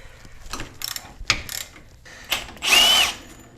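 A 17mm lower shock bolt on a Toyota 4Runner comes loose under hand tools, giving scattered ratchet clicks and metallic knocks close by. A short, louder burst of powered or pneumatic spinning follows near the end.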